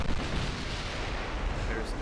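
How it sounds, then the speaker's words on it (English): Heavy naval gunfire from 14-inch guns in the warship game Ultimate Admiral Dreadnoughts, a dense continuous rumble of booming shots with voices talking over it. "There's no reason to not fire armor piercing with the 14-inch guns."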